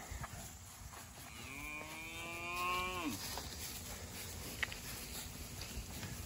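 Farm cattle moo as they are called out to pasture on a rotational grazing operation. One long, drawn-out moo rises clearly near the middle, close by, over a low outdoor background.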